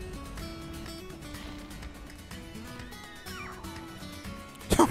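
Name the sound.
creature meowing in video game Path of Titans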